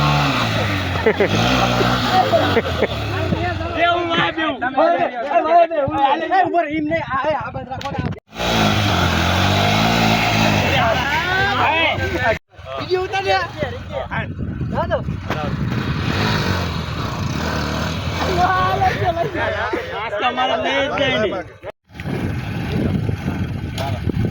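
A motorcycle engine runs and revs in repeated bursts, rising and falling over about twenty seconds, loud and close, mixed with other vehicle noise while people talk over it.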